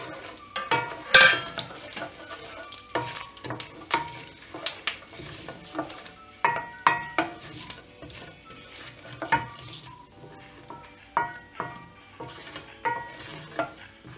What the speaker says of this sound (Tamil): எண்ணெய் காஞ்ச உடனே அதில் கடுகு, காஞ்ச மிளகாய், சீரகம், வெந்தயம் இது எல்லாத்தையும் ஆட் பண்ணிடலாம்.